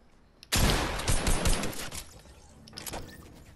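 AK rifle fire in a video game erupts as a sudden close burst of rapid shots, crackling densely for about two seconds before tapering into a few scattered trailing pops.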